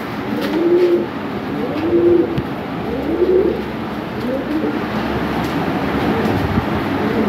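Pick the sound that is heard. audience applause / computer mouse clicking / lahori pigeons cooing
lahori pigeons cooing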